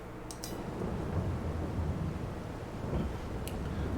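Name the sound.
rain in the video game Farming Simulator 22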